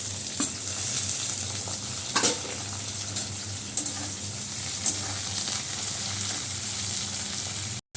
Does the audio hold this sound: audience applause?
no